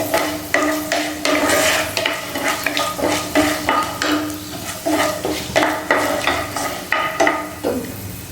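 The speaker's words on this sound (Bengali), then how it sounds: "ফোড়নটা ভাজা করা হয়ে গেছে," Five-spice tempering with green chillies fries in a pan while a utensil stirs and scrapes in a quick, regular rhythm, loud and close over constant sizzling.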